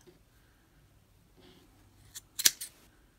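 Scissors snip through the wrapped yarn loops of a homemade pom pom after a quiet stretch, giving a few crisp close cuts with the loudest in the middle.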